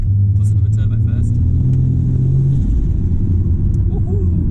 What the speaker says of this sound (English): Listen to the turbo first.